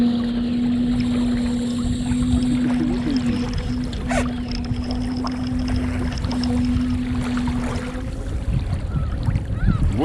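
A homemade electric motor boat runs at half power on open water, a steady motor whine over constant splashing and rushing water, close and loud throughout.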